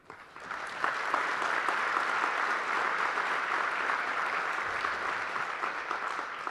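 Audience applause fills a chamber of commerce annual meeting, a dense, sustained clapping that swells quickly after a soft start and holds steady for several seconds with no speech over it.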